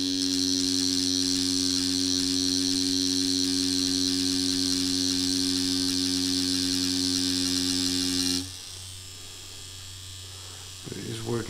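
OG Produce Terminator tattoo machine running on a hard practice skin gives a steady loud electric buzz with tonal hum for about eight seconds, then stops, leaving quiet handling noise.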